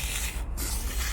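An 18-inch Tramontina machete drawn along a diamond rod sharpener in a short sawing motion, giving a steady, close, dry rasping scrape that runs continuously with a brief dip midway.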